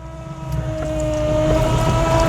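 A Toyota farm truck swapped to a 1UZ V8 engine with a custom sleeper exhaust drives off, its steady engine drone and whine growing gradually louder as it pulls away.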